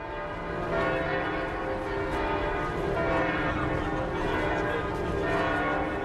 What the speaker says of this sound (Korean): 대성당에서 종이 울리자 성당 앞에 모인 사람들은 종소리를 들으며 평화를 기원합니다.